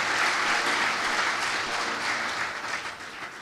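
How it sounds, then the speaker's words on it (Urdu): Loud, steady applause from a church congregation cheering those who give tithes, dense clapping filling the whole stretch without voices and easing slightly toward the end. "زوردار تالیاں ان لوگوں کے لیے جو ٹائید دے رہے ہیں"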